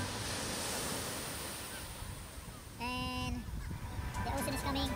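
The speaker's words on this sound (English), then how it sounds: "And the ocean is coming." Ocean surf washing onto a beach in Bali, a steady broadband wash with wind noise throughout, joined briefly by a harmonic honk and distant voices toward the end.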